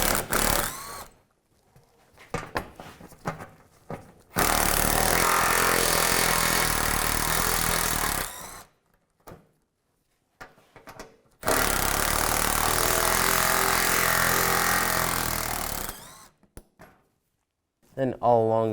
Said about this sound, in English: Take these bolts out, use a 10mm socket.